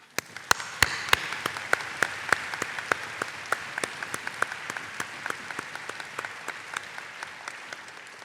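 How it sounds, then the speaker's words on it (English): Audience applause at the IMO 2016 opening ceremony: a steady wash of many hands clapping, moderately loud and sustained throughout, with sharp individual claps standing out near the front. "Please give them a round of applause."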